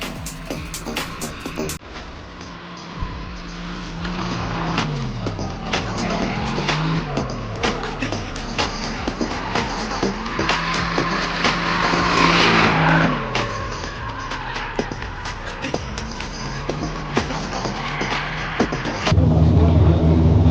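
A drift car skids through the first clipping point on a drift course, engine revving and rising and falling over a long stretch, with tire squeal and sharp pops, loud and fairly near throughout.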